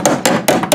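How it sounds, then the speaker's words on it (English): A small hammer taps a sheet metal patch down onto a lawn mower deck: four sharp, loud, close metallic strikes at an even, quick rhythm. "Now we're taking a small hammer and we're just tapping it down"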